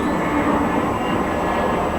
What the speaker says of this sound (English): Sorry, baby, there's a plane.